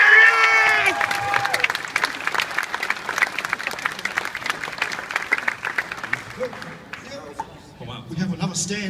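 A convention audience at Supanova in Adelaide applauds voice actors with loud, dense clapping and some cheering that gradually thins out, while a person speaks over the start and talk resumes at the end.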